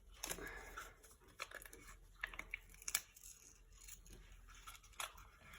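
A foil Alka-Seltzer packet being ripped open in a few quick tearing and crinkling bursts, close and fairly quiet, with small rustles between.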